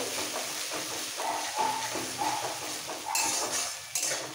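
Spice paste of ground poppy seed, ginger and mustard sautés in a pan with a soft sizzle, while a spoon or spatula scrapes and clinks against the metal in uneven strokes. Nobody talks.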